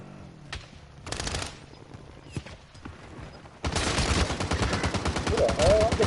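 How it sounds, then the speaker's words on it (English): Gunfire in the video game Warzone Rebirth: a few scattered sharp shots early on, then a dense, loud burst of rapid fire that continues to the end, with a voice briefly heard. "I'm getting sniped by so many people there"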